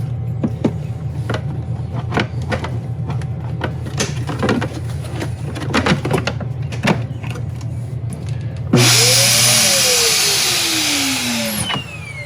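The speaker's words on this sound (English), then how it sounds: "Next, I will take you over to your vacuum system." Mechanical whirring and clicking, then the central vacuum system of a 2020 KZ Durango Gold travel trailer switches on with a loud steady rushing whoosh and a rising motor whine that holds to the end.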